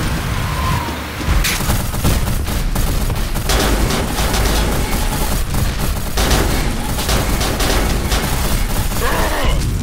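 Machine gun fire in a tank combat video game, loud and continuous, sustained bursts with heavy booms packed densely throughout and hardly a break.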